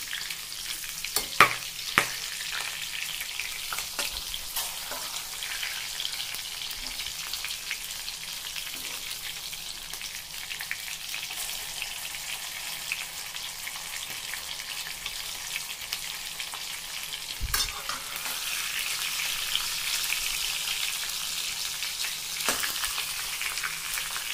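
Green chilies for stuffed bharli mirchi fry in very hot oil, giving a steady, dense sizzle that holds the whole time, with a few sharp crackles and pops and no voices.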